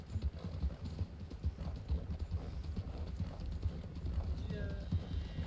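Horse hooves clip-clopping in the Red Dead Redemption game, a continuous rhythmic trot of steady beats close by, with people talking over it.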